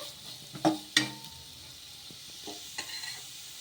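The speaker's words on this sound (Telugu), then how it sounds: "ఇలా క్యారెట్ తురుము కూడా వేసుకొని ఒకసారి బాగా కలిపేసుకుందాము" Grated carrot mixture stirred in a frying pan: a soft sizzle runs under two sharp spoon clinks against the pan near the start, then quieter scraping and stirring, close up with no voices.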